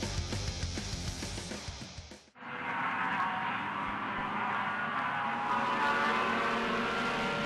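Honda Challenge race cars roar at the NASA National Championships at Miller Motorsports Park as the field restarts after a caution flag; a loud engine drone cuts briefly, then a steady, dense racing roar resumes.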